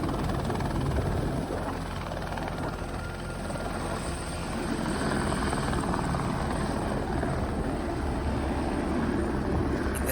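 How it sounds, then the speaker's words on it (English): A helicopter flying away over the Southern Alps near Mount Cook in New Zealand, its steady rotor and engine roar holding loud and constant throughout, with no talk. "the helicopter disappearing into the clear blue skies of Southern Alps"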